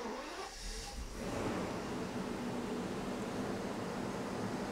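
Mercedes SL600 V12 engine starting, running rough with an improper air supply during throttle actuator testing: a burst of cranking and catching, then a steady, dense mechanical roar that holds close and loud without talk.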